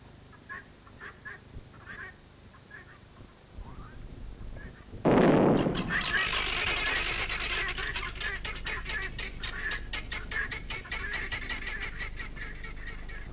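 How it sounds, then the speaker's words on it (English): A rock-blasting charge goes off in a stone quarry at Elamanur Pudur: a sudden loud, close boom about midway through, after a quieter stretch of low background sound, followed by a dense, rattling wash of noise as it dies away. "everyone waits expectantly for the explosion to occur"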